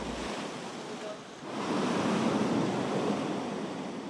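Ocean surf rolls onto a beach at Liwliwa, San Felipe, Zambales, a soft wash that swells louder midway and holds as a steady roar, with wind rumble on the microphone.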